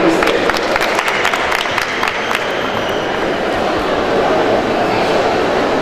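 Audience at a Bursa book fair breaks into sustained applause, a dense, steady clatter of many hands filling the room at close range with little variation throughout.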